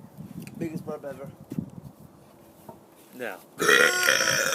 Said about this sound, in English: Biggest burp ever.